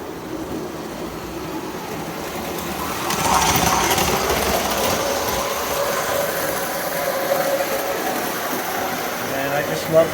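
A Lionel prewar Union Pacific M-10000 streamlined toy train runs along its track with a steady mechanical whir and rattle that grows louder partway through, while someone talks over it.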